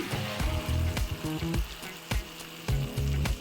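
Cumin seeds and tomato tossed into a hot pan for a village-style clam curry, giving a steady close sizzle and frying crackle with several clattering knocks of utensils against the pan.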